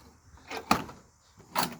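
Door of a 1980 Ford stepside pickup truck being worked, with two distinct close-up clunks and latching sounds about a second apart, loud and clear with no talking.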